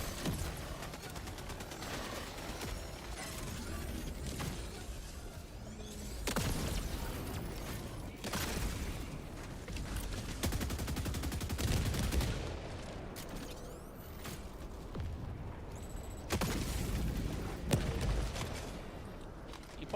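A machine gun firing in the video game Helldivers 2, sustained rapid fire with repeated louder bursts over a steady din of combat, fairly close, no talk on top.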